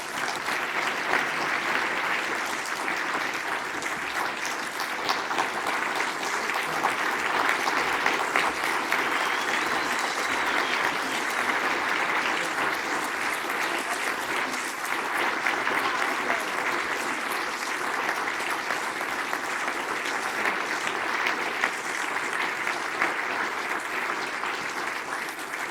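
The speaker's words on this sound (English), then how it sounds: "I think we should still keep clapping for a moment" A large audience claps continuously in a hall, dense sustained applause that stays loud and even throughout without a break.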